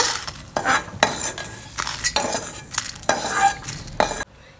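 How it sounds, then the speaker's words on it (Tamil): Paruppu podi ingredients roast with salt in a dry pan, loud rhythmic scraping and rattling strokes of a spatula repeating about once a second, then stopping abruptly. "உப்பும் போட்டு வறுத்துக்கலாம்"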